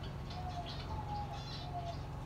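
Soft, low cooing from several birds in an aviary repeats under a steady background hum, with faint chirps now and then.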